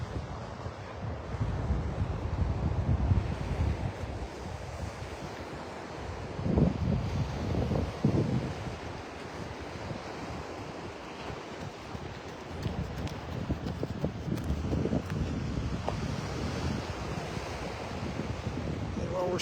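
Wind and surf on the beach at Pelican Bay in North Naples, Florida, on a clear morning: a steady broadband wash of waves with wind rumbling across the microphone, swelling in a few places.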